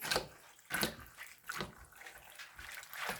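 Liquid pours into a slow cooker packed with grey peas and bacon in splashy, gurgling bursts that come and go at moderate loudness.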